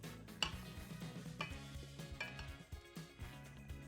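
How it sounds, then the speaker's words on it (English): Faint scraping and clinking of a utensil against the sides and bottom of a mixing bowl while combining yeasted dough, with irregular soft strokes and light knocks. "One more time, scraping through the sides and bottom of the bowl."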